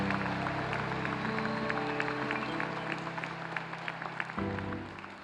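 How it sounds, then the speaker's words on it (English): Audience applause for graduates at a 2019 business school commencement ceremony, a steady wash of many hands clapping from start to finish, with a faint hum underneath. "One more round of applause for the 2019 graduates of the Master of Science in Management"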